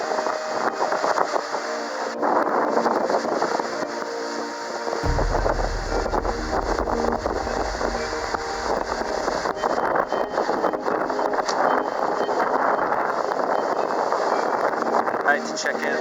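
A sailboat with a new sail runs along in 15 knots of wind, with constant loud wind buffeting the microphone, rushing water and a deep rumble that enters partway through.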